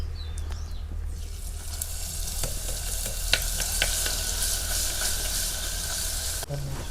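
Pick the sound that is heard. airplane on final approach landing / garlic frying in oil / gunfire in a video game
garlic frying in oil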